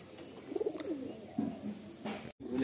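Madrasi pigeons in a loft give soft, low throaty coos in several short bursts, close by, over faint background hiss and with no one talking.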